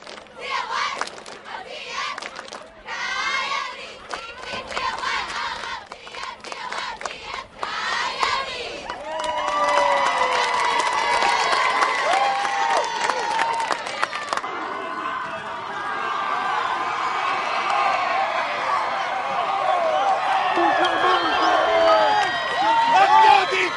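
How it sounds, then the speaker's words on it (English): A high school homecoming football crowd at Buena Park cheers, screams and applauds as the Coyotes team bursts onto the field, a loud swelling roar with shouts rising over steady clapping. "the Coyotes burst out of their homecoming banner to a rousing applause"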